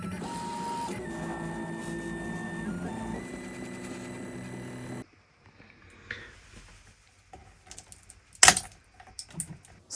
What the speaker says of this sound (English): I'll start printing some keys